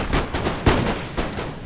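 Musket volleys from National Guard line infantry in the Napoleon: Total War battle game, several sharp shots in quick succession, close and loud, over battlefield noise.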